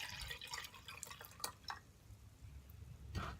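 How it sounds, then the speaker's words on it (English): Young Thai coconut water pours into a cup as a soft, close trickle with light dripping and splashing, steady for a few seconds with no talking. "And then the water I pour off into a cup or a bowl."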